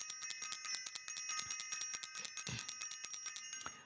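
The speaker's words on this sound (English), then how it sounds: "I'm going to ring the bell" A bright bell rings in rapid, continuous repeated strikes, close and clear, shimmering throughout with no voices.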